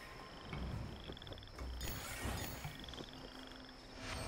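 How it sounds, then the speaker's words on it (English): A frog croaks several times in short rhythmic bursts in Genshin Impact, moderately near, over a soft ambient game background. "That frog sounded awfully close, way up in the fucking air."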